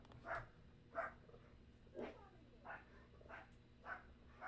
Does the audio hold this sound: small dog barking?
yes